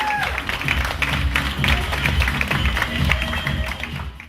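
Steady applause from a crowd fills the whole stretch, a dense wash of clapping with a few sharper individual claps that fades at the end.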